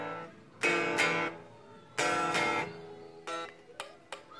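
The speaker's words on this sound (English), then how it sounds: "I'm gonna play something that should be played on acoustic guitar." An acoustic guitar plays a melodic theme in short bursts of strummed and picked chords, loud and close with pauses between phrases, alone without talk.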